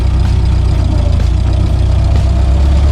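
A 1923 Ford Model T engine pulling in low gear gives a loud, close, steady mechanical chug with an even rhythmic pulse and rattle, and no voices over it.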